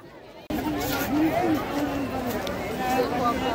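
Dense crowd chatter at the Kumbh Mela in Prayagraj near the Ganges at dawn, a close, loud babble of many overlapping voices that starts abruptly and runs on without pause.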